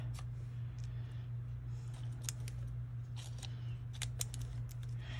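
Scissors snip through paper in a quiet room, a run of crisp, irregular cuts and clicks heard up close over a steady low hum, with no talking.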